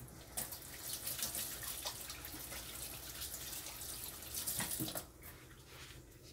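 Running tap water splashes over hands at a kitchen sink while chicken wings are being prepared, a faint, continuous trickle with irregular drips and splashes that drops off sharply after about five seconds.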